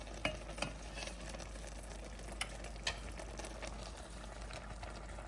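Mustard greens with salt cook in a pot, giving a steady low sizzle and bubbling hiss with a few sharp utensil clicks near the start and a constant low hum beneath.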